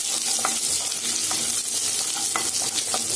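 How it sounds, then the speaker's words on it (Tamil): Small shallots sautéing in hot oil with mustard seeds and curry leaves for a tomato gravy, an even crackling sizzle throughout, broken by several light spatula scrapes and stirs close by. "இதில் 1/2 கப்பு சின்ன வெங்காயத்தை சேர்த்துக்கிறேன். சேர்த்து நல்லா வதக்கிக்கலாம்."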